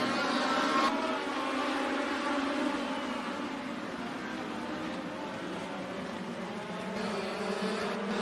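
Legends race cars roar off at the start of a feature race at Benton County Speedway, a dense buzzing engine drone from a distance that swells and shifts as the pack pulls away.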